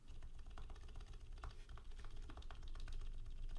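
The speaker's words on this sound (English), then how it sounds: "the sound is very nice on the bottom out of the keys" Fast, steady typing on a Metal 980 mechanical keyboard fitted with Clever domes and a plate, producing dense, even clacks of keys bottoming out, close and alone with no talk.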